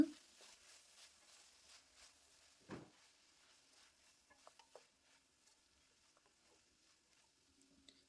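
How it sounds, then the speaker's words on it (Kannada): A spoon stirs tomatoes and salt into mutton boti gravy in a pan, soft scraping and faint sizzling with a few light clinks, quiet and close. "ಈಗ ಸ್ವಲ್ಪ ಉಪ್ಪು ಹಾಕ್ಕೊಂಡು ಇದನ್ನು ಕಲಿಸ್ಕೊಳ್ಳೋಣ"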